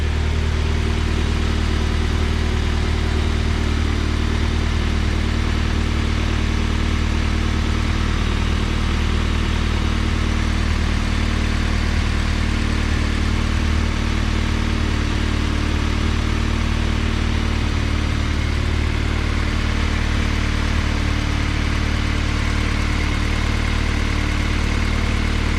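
Turbocharged Honda Civic EK engine idling steadily and close, a constant low droning hum with a slight even pulse and no talking, running with new oil breathers fitted before the catch can is hooked up.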